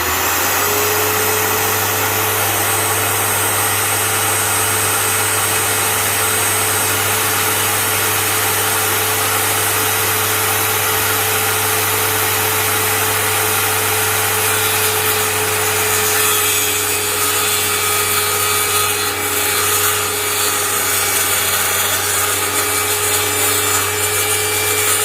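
A hand saw cuts across a plastic pipe for a DIY modular hydroponic NFT build, giving a steady, continuous rasping grind over a constant low hum, with no talking.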